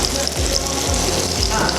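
Scallops fry in a hot pan, a loud, close, continuous sizzle and crackle with a few soft thuds as pieces settle.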